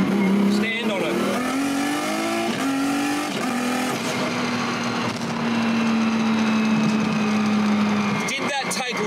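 A 1000hp RB26 engine in an R32 Nissan Skyline accelerates hard in second gear from around 3,500 rpm, a loud, rising engine note with boost building, then easing off near the end.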